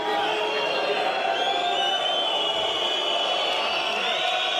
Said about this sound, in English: Rare boos from a Russian MMA crowd